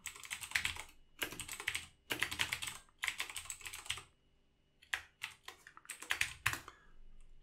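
Code being typed on a computer keyboard, close and quiet, in quick rattling bursts of keystrokes separated by short pauses, with no talk.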